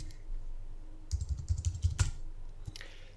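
Computer keyboard keys tapped while a dummy cheque number is entered into accounting software, a short cluster of quick, light clicks close by after a quiet start, ending with a single final keystroke.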